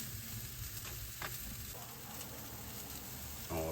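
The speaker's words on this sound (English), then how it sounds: "This is just one of the ways I grill salmon." Salmon sizzles on a hot grill with a steady, close hiss and crackle throughout, briefly louder near the end, and no one speaks.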